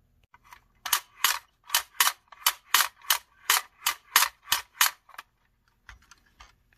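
Rapid run of about twelve sharp, loud cracks from a 1/6 scale military action figure's toy gun, evenly spaced in a fast burst and then stopping, close and alone with no talk.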